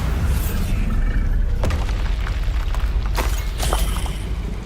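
Bombarda explosion spell cast in the Hogwarts Legacy video game, a dense rumbling blast bed with a few sharp cracking bursts and debris-like hits over roughly five seconds, loud and sustained without clear talk.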